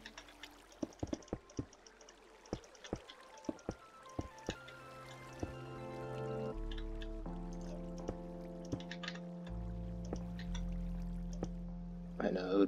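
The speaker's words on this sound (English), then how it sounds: "To make sure the water doesn't spill." Water flowing in the Minecraft video game, with soft dripping and pouring under a run of clicks and sustained game tones, with talking over it.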